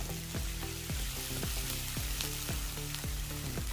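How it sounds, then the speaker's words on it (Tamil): Onions fry in a pan for a dry fish gravy with bottle gourd, a continuous close sizzle with regular stirring scrapes about every half second. "இப்ப இது வந்து நல்லா வெங்காயம் வதங்கி வந்திருக்குது."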